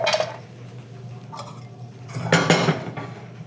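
A metal skillet is set down and handled with a few close clanks and clinks, one louder knock near the middle, and no talking.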